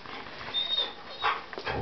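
Faint whimpers and soft yips from a small puppy under a shelf, brief and quiet over a low background hiss.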